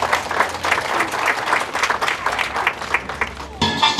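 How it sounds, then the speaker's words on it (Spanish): A school closing ceremony crowd claps loudly for fifth and sixth graders after a Sinaloan folk dance, a thick, continuous wash of applause with faint voices mixed in, then a brief shift in the sound near the end. "Demos un fuerte aplauso"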